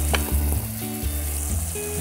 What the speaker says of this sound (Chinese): 跟住咧，我哋就爆洋葱